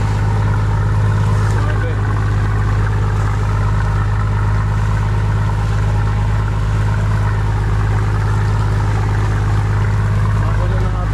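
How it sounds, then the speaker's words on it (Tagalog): A motorboat's Isuzu 6HH1 six-cylinder engine rumbles loudly and steadily through its exhaust, a deep constant throb close by, with a voice speaking briefly over it. "Ganda pa rin ang tunog ng tambutso natin."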